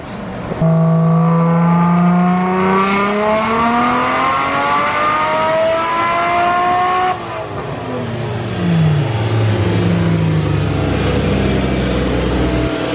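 A Nissan Skyline engine near 600 horsepower revs hard on a dyno, a loud sustained pull that climbs steadily in pitch, eases briefly partway through, then surges again.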